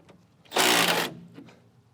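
A Milwaukee M12 right angle impact wrench removes a small fender bolt on a 574, a single loud half-second burst of rapid hammering whir that cuts off sharply, close up and alone.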